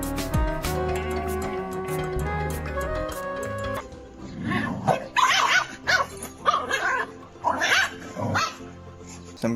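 A dog barks in repeated sharp bursts with yips and whimpers, loud and close, after a stretch of music with no animal sound.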